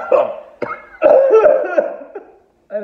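A series of harsh, close coughs, several bursts in quick succession, tapering off, followed by one shorter cough after a brief pause.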